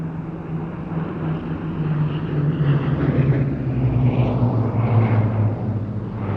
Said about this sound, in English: a four-ship formation of Hawker Hurricanes